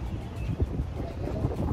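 Steady wind rushing and buffeting against the microphone on a sunny day in Orlando, a low rumbling roar with gusty thumps throughout.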